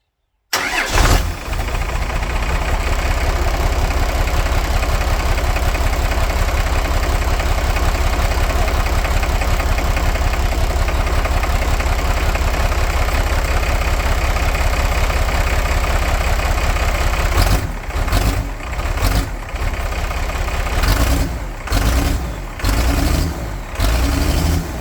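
A 12-valve Cummins diesel paired with an Allison 542 transmission cranks and catches, then runs at a loud, steady idle nearby; toward the end the engine falters and stumbles in repeated dips.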